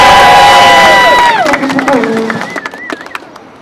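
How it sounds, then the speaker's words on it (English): A union rally crowd cheers and whoops loudly, with rising shouts and voices over clapping that thins out toward the end. "another round of applause for Borough President Reynoso."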